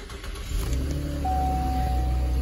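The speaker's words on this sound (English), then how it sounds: "We're going to go ahead and insert the key and turn it on." A 2015 Chevrolet Camaro idling after being started with the key, a steady low engine rumble close by with a thin electronic tone appearing partway through, no talking.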